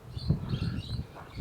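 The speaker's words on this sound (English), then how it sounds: "You can hear his birds as well." Birds kept at a cactus shop in Paralimni, Cyprus, among them small parrots, geese and peacocks, give a few soft chirps and coo-like calls at moderate distance over quiet ambience.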